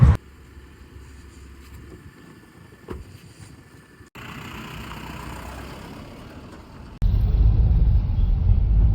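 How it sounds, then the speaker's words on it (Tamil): A Toyota Hyryder SUV on a live test drive, its engine and road rumble steady inside the cabin, growing louder in stages as it picks up speed, with no talk. "அந்த வண்டியை தான் இப்போ லைவாக டெஸ்ட் ட்ரைவ் பண்ண போகிறோம்."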